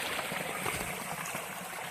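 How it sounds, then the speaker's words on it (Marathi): A small spring trickles down from above at a hillside water-collecting spot, giving a soft, continuous gurgle and splash of running water heard close and fairly quietly. "पाण्याचा एक छोटासा झरा वरून येतोय"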